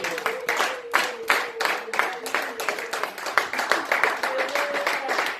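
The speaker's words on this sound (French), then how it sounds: "est-ce que tu peux donner une main d'acclamation?" A church congregation claps in a rhythmic, steady beat, moderately loud and nearby, with a voice talking and singing over the clapping throughout.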